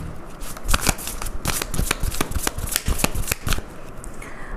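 A deck of tarot cards is handled and shuffled up close: quick riffling flutters and sharp card snaps repeat in a busy, uneven rhythm, with no voices over them.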